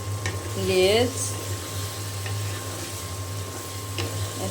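A hilsa fish head fries in spiced oil with a steady, close sizzle; a voice speaks briefly near the start.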